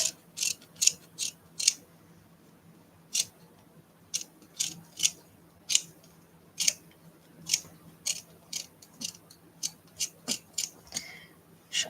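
Sharp, repeated scissor snips cutting fabric for a handmade art doll, a steady series of crisp close cuts in irregular rhythm with brief pauses, no talking.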